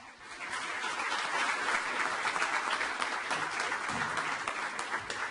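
Audience applause at a Governor of South Australia commendation award ceremony swells quickly after a short lull and holds as a dense, even wash of clapping from a large crowd, with no voices on top.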